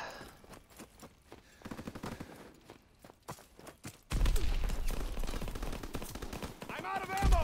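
A sniper class loaded with FMJ rounds fires in a video game: scattered sharp shots and clicks at first, then a loud, dense burst of rapid gunfire and battle noise from the midpoint on.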